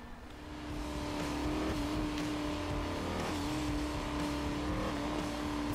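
A 1977 Holden Torana A9X with an LS V8 in Forza Motorsport 7 roars steadily at high revs, shifting pitch between gears with a throaty rumble, loud and continuous with no talking.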